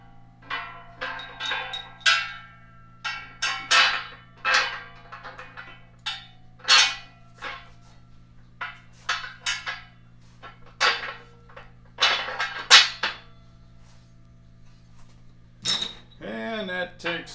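Metal bolts and lock washers clink and clatter in sharp, irregular bursts while a Vevor hydraulic shop press is assembled, close by over a steady low hum, with a voice speaking briefly near the end.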